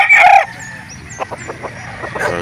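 A rooster crows once, loud and close, at a gamefowl market in Calauan, followed by softer clucking and bird calls in the background.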